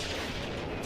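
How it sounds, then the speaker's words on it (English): Tanks firing in a Doctor Who episode, a dense rumbling roar of heavy gunfire and booms, loud and continuous throughout the short moment. "Taken out by tanks."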